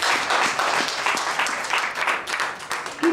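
A church congregation claps and cheers in loud, steady applause that fills the whole stretch with rapid, overlapping hand claps.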